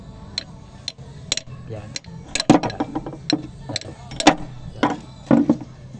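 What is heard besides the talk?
hammering wrench to remove Starex diesel injector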